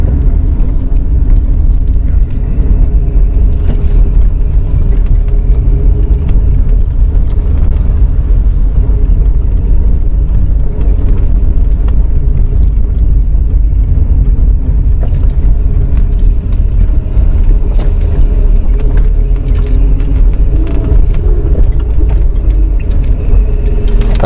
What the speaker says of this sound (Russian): Вот мы сейчас на второй газ даем, в принципе, машина разгоняется.